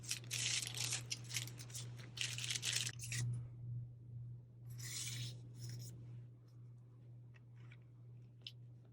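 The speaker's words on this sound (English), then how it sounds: "Another thing sitting here on my desk is some tissue paper." Tissue paper on a crafting desk is crinkled, rubbed and torn in two rustling bursts, a longer one first and a shorter one after a pause, close and fairly soft against a faint steady hum.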